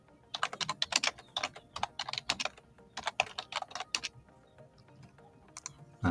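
Typing on a computer keyboard, a steady run of quick close key clicks in bursts with short pauses, fading lighter toward the end, with no voices.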